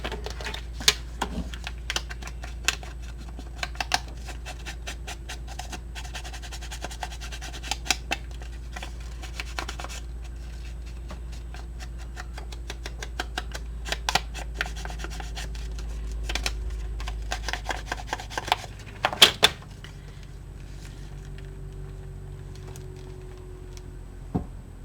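Paper is trimmed for a folio journal, with scattered sharp snips and clicks and soft rustling and scraping over a quiet background. A louder cluster of cuts comes near the end.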